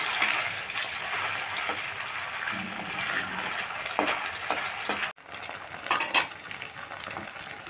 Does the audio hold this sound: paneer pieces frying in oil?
yes